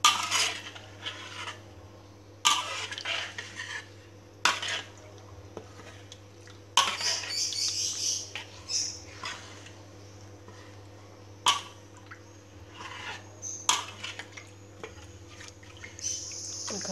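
A spoon scrapes and clinks against a pan while stirring Minang chili sambal, sambalado tanak, in repeated irregular strokes, with gentle bubbling and a steady stove hum beneath.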